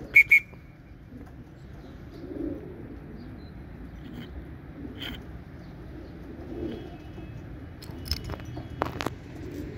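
Homing pigeons returning from a 60 km training flight, with soft cooing and bird calls at close range, a couple of sharp clicks or flaps at the start and scattered rustles over a steady low background.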